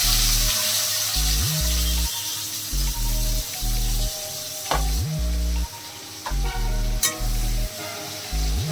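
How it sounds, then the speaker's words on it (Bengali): Smashed onion hits hot oil and sizzles steadily for several seconds while a pan is stirred, with a few sharp clinks over a constant frying hiss. Strong tonal musical notes pulse throughout, and no one speaks. "তেলটা গরম হয়ে গেছে, এর মধ্যে দিয়ে দেবো আমার এই স্ম্যাশ করা পেঁয়াজটা।"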